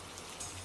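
Rain lashing against window glass in a storm, a dense, even hiss that stays faint and steady for a short stretch.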